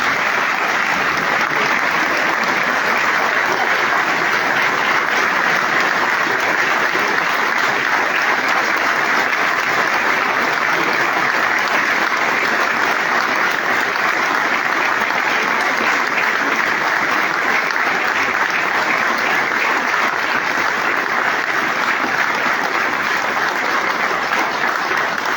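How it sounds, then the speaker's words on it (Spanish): Loud, sustained applause fills a union general assembly hall, a dense crowd clapping steadily and evenly for about twenty-five seconds without a break. "empezar esta Asamblea General con un estruendoso aplauso"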